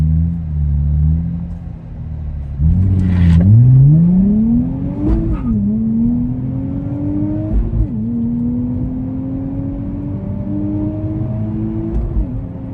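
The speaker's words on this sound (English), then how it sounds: "We're gonna get some first gear pulls real quick." A Nissan Z's engine revs hard through first-gear acceleration pulls, rising in pitch with each gear-limited surge and brief drops between, loud and close with steady rumble, no talk.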